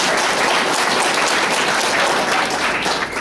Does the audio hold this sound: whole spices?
no